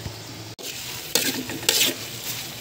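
Mackerel cooking in a pan with tomato and onion for sarciado, a soft steady sizzle with stirring scrapes that swell in two louder bursts, close by and with no talk.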